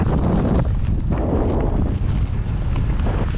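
Strong wind buffets a microphone beside a railway line, a loud continuous roar with gusty surges throughout and no clear voices.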